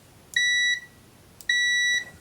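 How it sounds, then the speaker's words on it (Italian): Continuity buzzer of a Ziboo 17B multimeter, a Fluke 17B clone, sounding two steady electronic beeps of about half a second each, clear and close with a short gap between them. "Proviamo la continuità con il cicalino, quindi mod cicalino."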